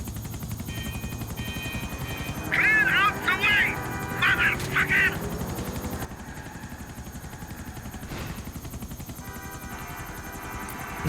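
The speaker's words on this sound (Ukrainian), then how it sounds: "Гелікоптер." A helicopter's steady rotor drone dominates a mission in GTA: The Ballad of Gay Tony, loud and continuous, with game voices and electronic chirps layered over it before the sound drops lower midway.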